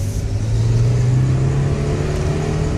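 A 2000 Renault Laguna Alize engine hums steadily while driving, a continuous mid-pitched drone with road and cabin noise, fairly loud and even, with no voices.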